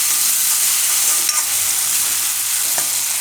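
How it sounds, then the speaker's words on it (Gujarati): Tomatoes and onions sizzle steadily in a pan as mamra bateta is made, a constant close hiss with a couple of faint utensil clicks and no talk. "તો આપણે ટમેટાં અને ડુંગળી થોડીક વાર પકાવી લઈએ।"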